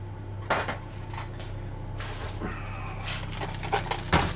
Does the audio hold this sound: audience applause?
no